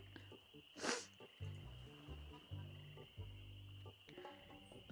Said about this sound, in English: Look at the little frog.